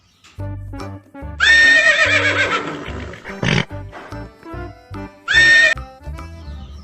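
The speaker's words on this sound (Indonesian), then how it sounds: "Ini ada hewan seekor kuda" A horse neighs loudly twice, a long shrill whinny and a shorter one, with snorts and low background hum in between.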